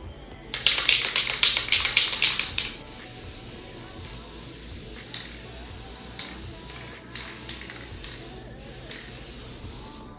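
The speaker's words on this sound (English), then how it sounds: "So I'm gonna spray this" Spray paint hissing onto a wooden nightstand in a DIY refinish, an opening run of short rapid bursts followed by a longer steady spray, close and loud with no voices.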